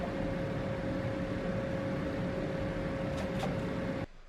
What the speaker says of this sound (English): If you're wondering what that noise is in the shop, that's the vent.